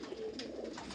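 Soft, distant cooing from large pigeons in a loft, a low murmuring call over a steady background hum, with no talk.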